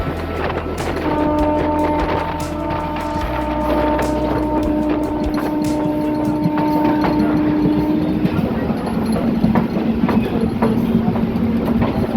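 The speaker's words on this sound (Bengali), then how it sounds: "পড়েছি লোকাল ট্রেনে এই ট্রেন কিন্তু যাবে আমাদের পাঁশকুড়া পর্যন্ত" A local train bound for Panskura in Purba Medinipur, India, rolls along the rails with a steady rumble and rhythmic clickety-clack of the wagons, plus tonal hums and squeals, loud and continuous throughout from on board.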